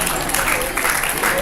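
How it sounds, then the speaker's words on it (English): Audience applause at an alumni meeting prize presentation, a steady dense wash of clapping from a crowd filling the whole moment. "Thank you for round of applause."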